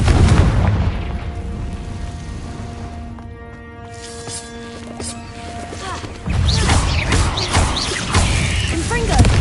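An explosive Confringo spell is cast inside a cave in the Hogwarts Legacy video game. Heavy booming blasts open the passage, a ringing tonal stretch follows, then loud crashing bursts return near the end.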